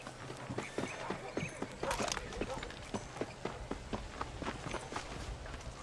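Rhythmic clip-clop of horse hooves at a steady trot in the video game Red Dead Redemption, with voices talking over the hoofbeats.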